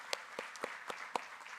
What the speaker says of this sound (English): can we have a huge round of applause for KCD Kerala